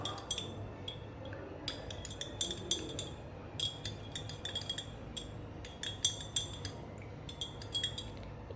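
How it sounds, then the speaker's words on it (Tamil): A spoon stirs coffee powder into warm water in a glass, producing rapid, bright metallic clinks against the glass in irregular bursts, close and fairly quiet, with no talking. "இந்த காஃபி தூளை சேர்த்துக்கலாம் இப்போது மிக்ஸ் பண்ணி விட்டுக்கலாம்"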